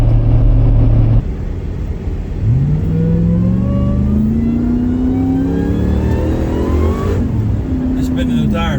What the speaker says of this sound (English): Just spinning the tires right there